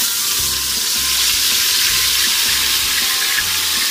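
A blended masala paste fries in ghee with a loud, continuous hiss and crackle close by, steady throughout with a faint low hum beneath.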